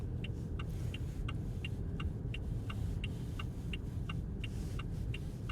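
Steady road rumble and engine drone inside a Haval car driving on a foggy road, with a faint regular ticking like a turn indicator clicking throughout, no talking.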